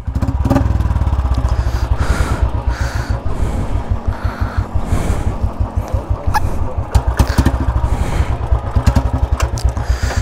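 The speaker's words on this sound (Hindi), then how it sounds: "तो एग्जॉस्ट सुना दे भाई, एग्जॉस्ट।" A Royal Enfield Bullet 350 and a Yamaha R15 V4 at a drag race: motorcycle exhaust thumps and pops in a rapid, uneven rhythm, loud and close, with revving bursts over a steady idle.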